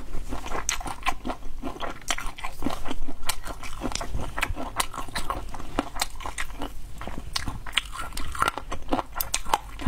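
Close-miked eating of spicy boneless chicken feet in a mukbang setting: continuous wet, crunchy biting and chewing with sharp crackles and squishy mouth sounds, alone and steady throughout.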